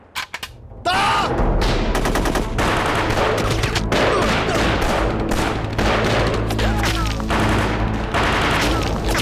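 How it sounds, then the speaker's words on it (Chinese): Loud, dense bursts of rifle and machine-gun fire in a war film ambush of Japanese soldiers in a jungle, rapid shots crackling almost without pause after a few opening pops. "还没先伏击圈，怎么就开枪了？"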